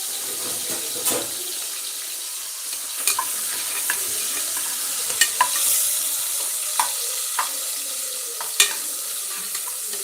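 Onions frying with salt in a pan for coconut milk rice: a soft, steady sizzle with scattered light scrapes and taps of a spoon stirring, close and alone.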